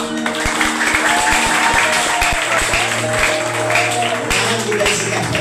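Congregation at a church worship service clapping, a steady patter of many hands alongside talk and a low musical drone.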